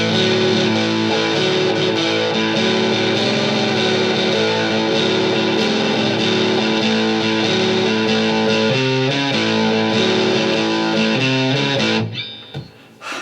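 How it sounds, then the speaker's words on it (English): Music runs through a distortion effect, giving a thick, fuzzy, saturated tone that holds steady and loud before cutting off near the end, leaving a few faint scraps. "let's add some distortion"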